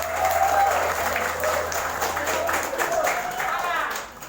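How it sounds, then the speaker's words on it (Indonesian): A crowd claps for Islamic boarding school students of Pondok Pesantren Al-Aziz at a Maulid celebration, loud and dense at first and easing slightly, with cheering voices and a speaker's voice heard through the applause. "Tepuk tangan juga untuk santri Pondok Pesantren Al-Aziz."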